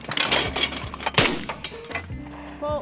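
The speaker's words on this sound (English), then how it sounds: "Mom should come do some shooting." Gunshots ring out during target shooting with a called pull, a few sharp loud reports with echoing tails spaced across a short burst, close by and outdoors.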